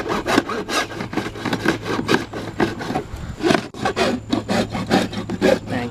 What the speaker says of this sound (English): We got a little hacksaw.